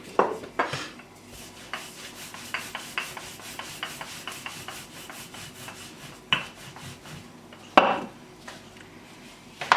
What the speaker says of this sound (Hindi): अब बेल लेते हैं।